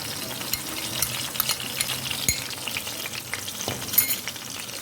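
Spiced yogurt sizzles in hot ghee over a low flame, a steady crackling fry with scattered pops and light stirring throughout, close up and without speech.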